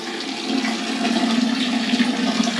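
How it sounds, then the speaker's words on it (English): A toilet flushes in a steady, loud rush of water that continues without pause, close by, with no voices. "lift the siphon and let it fill up prior to just giving it a flush first of all"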